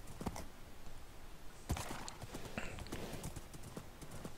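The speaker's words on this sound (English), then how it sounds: "Can this horse go any faster?" A horse gallops in Minecraft, its hooves clip-clopping in a quick, steady rhythm close by with a few sharper thuds from jumping.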